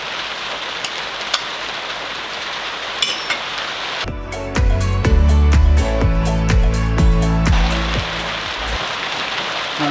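Steady rain falling outdoors near a workshop where a Classic Mini SPi cylinder head is being worked on, a constant hiss, joined midway by loud close clattering and knocking from handling parts before easing back to rain alone.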